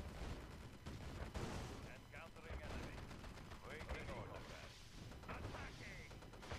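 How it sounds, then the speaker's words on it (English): A machine gun IFV fires in the Red Alert 2 strategy game amid other battle noise, with rapid bursts of gunfire and explosions layered densely over a continuous rumble while someone talks over it. "So he thinks he's gonna mow me down with that machine gun IFV."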